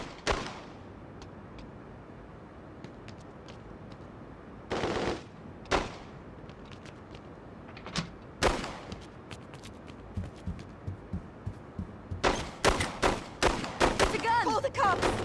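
Gunfire in The Godfather II video game: scattered loud single shots early on, then a dense rapid burst of automatic fire toward the end, with a faint game backdrop between the shots.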